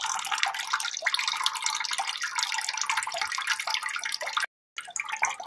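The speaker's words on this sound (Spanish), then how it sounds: "Vamos a esperar a que termine de cargar y vamos a ver cómo el mecanismo mismo va a cortar." An old toilet cistern refills through its float valve, giving a continuous bright hiss and splash of running water that briefly cuts out, then resumes near the end.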